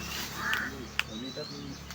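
Harsh, crow-like caws from birds echo inside a cave, a few short calls spaced out over a low murmur of voices and cave ambience.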